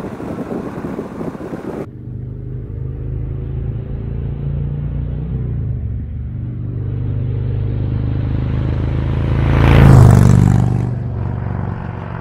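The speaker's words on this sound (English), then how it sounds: "this is the first ride with my new Vance and Hines Power Dual" A motorcycle with a new Vance & Hines Power Dual headpipe rides past: a low exhaust rumble holds steady after a sudden start, then swells into a louder close pass near the end before easing off.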